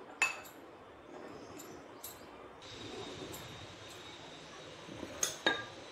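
A spoon scrapes and clinks against a bowl while eggplant is stirred with mustard and garlic paste, a few sharp metallic taps standing out over quiet, soft mixing sounds.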